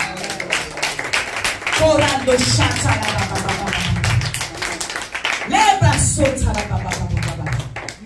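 A church congregation clapping and cheering in praise after a sermon. Sharp, irregular handclaps mix with voices and shouts, loud and close, swelling again near the end.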